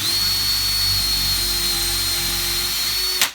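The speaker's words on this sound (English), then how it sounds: "So put a pilot hole in the stud a little bit." Power drill boring a pilot hole into a wall stud while a TV mount goes up, a steady loud high whine lasting about three seconds before stopping abruptly, no talk.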